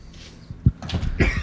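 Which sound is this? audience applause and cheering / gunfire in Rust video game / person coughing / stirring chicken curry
person coughing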